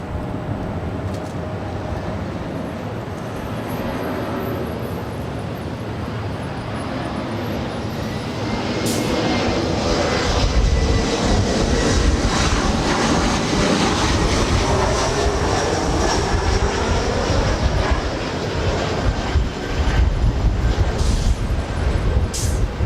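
Jet airliners at Los Angeles LAX airport, a broad engine roar building and swelling as an aircraft passes, with distant rumble before and shifting whine after.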